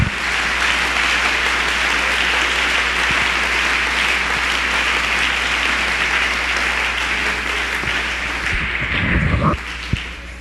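Sustained applause fills a church congregation after a sermon, loud and steady for about ten seconds, tapering near the end with a few louder claps.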